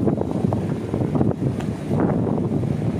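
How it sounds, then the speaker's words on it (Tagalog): Strong wind in Tagaytay buffets the microphone in loud, continuous low rumbling gusts that swell and ease without pause. "Ayan, lakas ng hangin."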